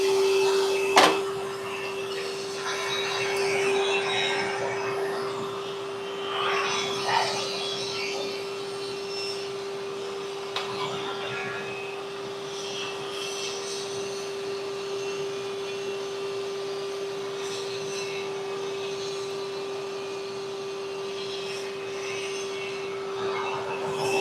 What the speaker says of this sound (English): So we're gonna vacuum all of that up in there